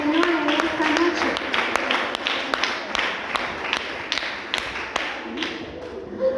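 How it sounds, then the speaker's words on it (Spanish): A church congregation claps rhythmically, sharp taps repeating steadily over a busy room with voices and music underneath. "denles a fuertes aplausos al Señor en esta noche"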